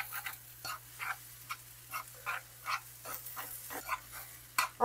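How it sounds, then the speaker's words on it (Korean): Food being stirred and mixed in a pot, a series of soft rhythmic scraping and squelching strokes roughly every half second over a low steady hum, close and fairly quiet, no voices. "자, 이제 또 다시 섞어줍니다."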